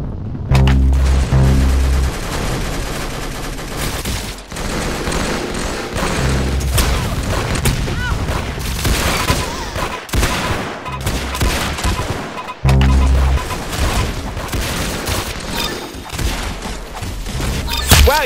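Rapid gunfire in the Roblox-style shooter game Arsenal, loud dense bursts of shots and booms almost nonstop, with brief breaks, close and harsh, mixed with game music.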